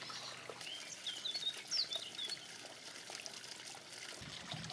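Water splashes and trickles softly in a garden pond, a faint continuous patter with a few bird calls above it.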